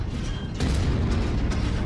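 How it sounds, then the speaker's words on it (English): Heavy booming blast of a mech's ammunition cooking off in MechWarrior combat, a low rumbling burst that swells halfway through and keeps rolling with dense battle noise, no talking. "I mean, ammo explosion, I believe."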